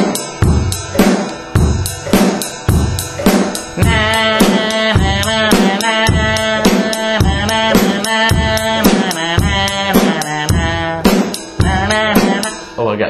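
A full drum kit lays down a steady, loud beat with bass drum, snare and cymbals together, the strokes repeating in an even rhythm throughout with no talk over it.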